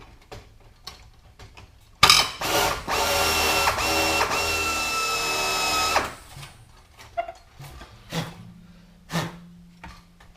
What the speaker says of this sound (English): I'm going to have to drill that out